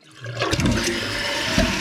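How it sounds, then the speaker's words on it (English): A Kohler toilet flushes close by, a sudden rushing gush of water that builds quickly and keeps pouring steadily and loudly to the end. "So when I flush it, you see when I flush it,"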